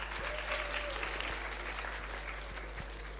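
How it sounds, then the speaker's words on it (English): Steady applause from a lecture audience fills the room, a dense continuous patter of many hands clapping at even strength throughout. "This is an easy crowd if you're clapping for me before I start speaking"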